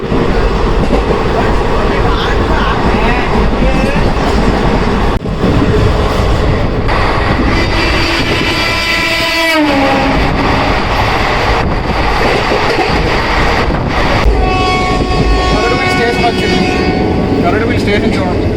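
A passenger train on the Komatipalli to Vizianagaram line runs on after Gajapathinagaram and pulls into Garudabilli station: continuous loud rumble and wheel clatter, with brake squeals and shifting tones as it slows, and voices talking over the noise.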